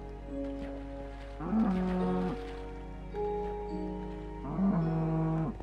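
Two drawn-out moos from a cow in the Minecraft video game, each a low sustained tone with a bending pitch, heard clearly and alone over a quiet background with no talking.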